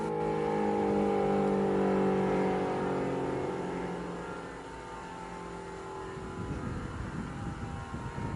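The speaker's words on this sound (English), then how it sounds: "the last few cars were making their way to homes or shelters" Cars pass on island streets as Hurricane Iniki approaches Kauai, a loud engine drone and tonal vehicle hum peaking early and then fading into rougher, wind-like rumble; no voices.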